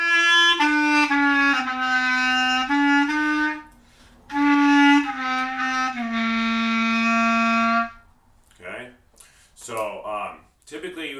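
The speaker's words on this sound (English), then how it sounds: "My reed was a little dry, it's giving me a little bit of a squeaky sound. But it's the clarinet." A clarinet with a dry reed plays a series of sustained notes, two long phrases with a slightly squeaky edge, followed by a few seconds of speech.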